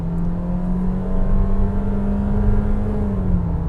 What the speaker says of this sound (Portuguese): vocês ouviram a troca de marcha?